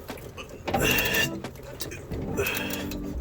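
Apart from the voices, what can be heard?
Scion FR-S engine being cranked over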